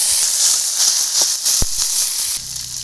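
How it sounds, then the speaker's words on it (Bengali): Prawns dropped into hot oil in a wok give a steady, loud sizzling hiss throughout, with a single short clunk midway and a quieter crackle toward the end. "এবার আমি চিংড়ি মাছগুলো দিয়ে দেবো।"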